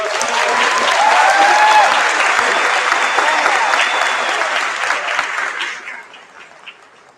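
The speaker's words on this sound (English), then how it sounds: "can we have one more round of applause for our Dirk Costello?" A large audience at a commencement ceremony applauds in a loud, sustained wash of clapping that holds steady before fading out near the end.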